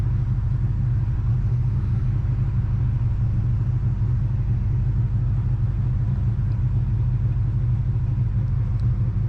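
A deep, lumpy engine rumble from a cammed widebody Scat Pack throbs steadily throughout, loud and low, like a car cruising along on the highway with a heavy idle-like pulse.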